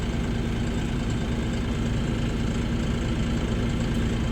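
A vehicle engine stuck in thick sand drones steadily with a low, strained rumble, bogging down under load without any breaks.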